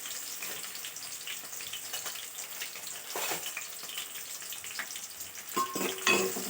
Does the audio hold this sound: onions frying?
yes